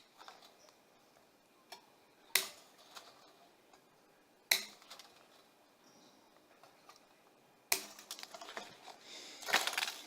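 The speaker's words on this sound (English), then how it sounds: "I'm just going to clip these things down here close, which helps me be able to get them out through the back" Clippers snip off component leads, giving three or four sharp, close clicks spaced a couple of seconds apart. Lighter ticking and handling noises fill the gaps, and a denser rattle closes the stretch.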